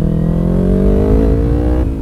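A motorcycle engine revs up on a city street, its pitch climbing steadily over two seconds, loud and close, then dropping off at the end.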